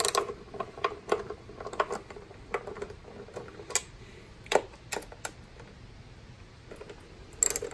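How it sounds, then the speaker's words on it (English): Ratchet with a 10 mm socket undoing valve cover bolts on an engine, a string of quick clicking ticks in irregular bursts, close and fairly sharp, with quieter gaps between. "now it's time to undo these bolts so we can get the breather tube out"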